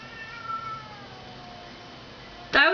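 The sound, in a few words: cat meowing outside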